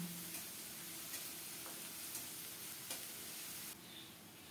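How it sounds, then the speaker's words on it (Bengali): Onion and garlic paste fries gently over low heat, a soft continuous sizzle with faint occasional stirring scrapes, quiet and close with no voices. "পেঁয়াজ রসুন দিয়ে অল্প তাপে কিছুক্ষণ নেড়ে চেড়ে ভেজে নেব।"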